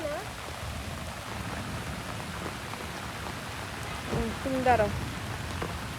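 Heavy rain pours steadily at a lotus pond in Barishal, a constant close hiss of drops beating on surfaces and an umbrella, with people talking briefly over it.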